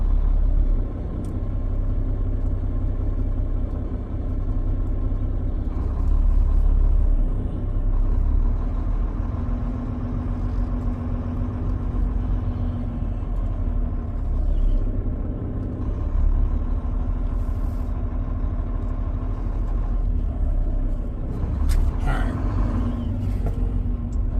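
A truck slowly backs into a parking spot at a stop between Amarillo and Flagstaff. A steady low engine rumble holds throughout at moderate loudness, with no voices.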